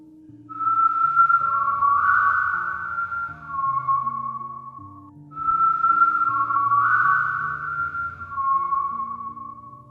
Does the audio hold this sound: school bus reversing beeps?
no